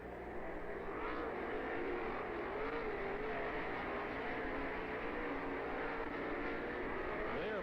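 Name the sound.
sprint cars racing at Lernerville Speedway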